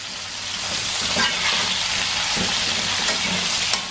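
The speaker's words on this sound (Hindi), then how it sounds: "अब बैंगन डाल देंगे। बैंगन भी 3-4 मिनट फ्राई करेंगे।" Eggplant pieces frying in oil in a pan for an aloo baingan curry, giving a steady close sizzle with faint stirring scrapes throughout.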